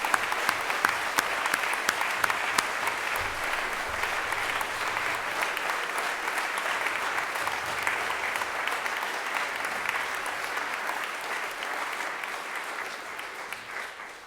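A school audience claps in a steady, sustained round of applause for the athletic coaches at an assembly, dense and even throughout before tapering slightly at the end.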